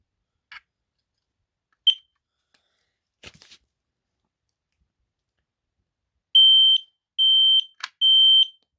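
A battery-powered smoke detector with a built-in battery, test button pressed, gives a few faint clicks, then three loud, piercing beeps in a steady on-off pattern, close and alone.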